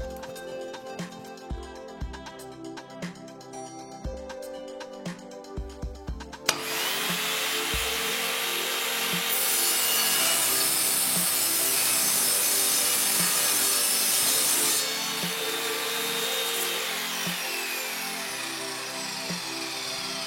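An Evolution R210SMS+ radial miter saw cuts through thick wood: a few knocks of handling, then the motor spins up into a loud, sustained cutting whine that eases partway and keeps running to the end.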